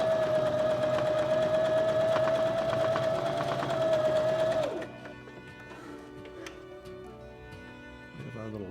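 A mechanical sewing machine stitches a tight zigzag at about 1.5 stitch length and width 5, giving a steady loud whirring hum with rapid ticking for several seconds. The motor then stops, leaving faint clicks and handling sounds.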